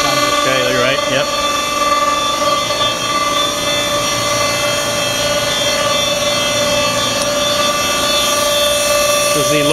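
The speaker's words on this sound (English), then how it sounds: "This is the load lock pump." A refurbished load lock vacuum pump on an STS Multiplex PECVD system runs with a loud, steady mechanical drone and tonal whine, continuous throughout, with brief voices at the start and end.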